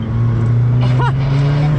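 A carbon McLaren Senna hypercar drives on a track, heard from inside as a steady loud low engine drone and road roar, with a brief voice partway through.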